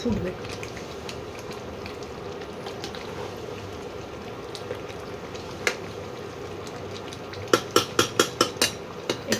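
Chicken curry spiced with garam masala simmers in a pot with a steady low bubbling hiss, ending in a quick series of sharp utensil taps against the metal, while someone talks faintly.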